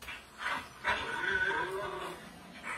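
A voice imitates a donkey trying to bark like a dog, making a few strained, whimpering yips and warbling cries, quiet and close with short breaks between them.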